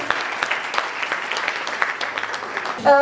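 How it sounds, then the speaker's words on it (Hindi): A crowd at a caregiver training program claps loudly to welcome a guest, a dense patter of many hands that runs steadily and ends with a brief tonal squeal at the close. "जोरदार तालियां इस शख्सियत के लिए।"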